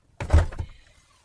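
A power-folding second-row seat in a 2025 Lincoln Navigator 4x4 Reserve drops down with a single heavy thunk and a brief rattle, close and loud, then a faint fading mechanical hum.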